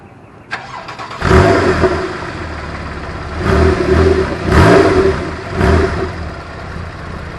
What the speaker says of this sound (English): And I think we're going to get a startup on this one.